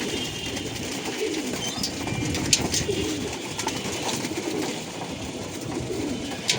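Pigeons coo repeatedly in a pigeon loft with cages holding about 35 birds each, soft overlapping throaty calls close by amid a constant background hum, no talking.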